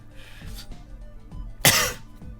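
A single sharp, close cough bursts out after some faint background shuffling, with muffled low thumps before and after.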